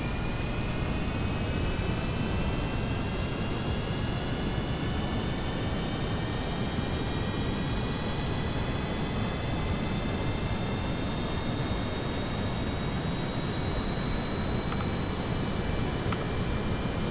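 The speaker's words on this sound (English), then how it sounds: "Damn, that thing is fast, man. That engine's got a lot of kick." A jet engine on a fast aircraft in Kerbal Space Program roars continuously with a dense, loud rush and slowly climbing whine, unbroken throughout and free of talk.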